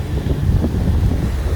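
Wind and Atlantic Ocean surf at a Boca Raton, Florida beach: a loud, continuous low rumble of waves and wind buffeting the microphone, no voices.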